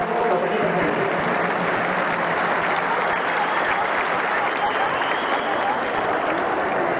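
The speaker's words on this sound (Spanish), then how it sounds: "pido un fuerte y caluroso aplauso" A big crowd gives loud, warm applause at an Orquesta Estrella de Oro dance with thousands of couples on the floor. The sustained, dense clapping fills the whole stretch at a constant level, and a crowd murmur runs beneath it.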